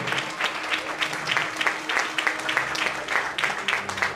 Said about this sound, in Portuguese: Pode aplaudir o entrega, pode. Dá a palma para ele.